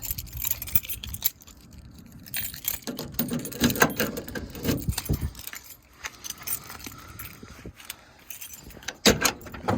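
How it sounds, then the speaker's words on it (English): Keys jangling and clinking while a truck door is unlocked, bursts of metallic rattling with scrapes and clicks, fairly close, no talking. "Let me unlock the truck."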